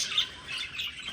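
Parrots and lovebirds in an indoor winter garden give off a steady stream of high, overlapping chirps and twitters, fairly close and continuous, with no talk.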